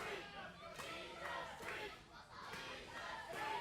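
A wrestling crowd at a Christian Wrestling Federation event chanting and cheering, a rhythmic swell of many voices rising and falling in waves, heard from across an arena.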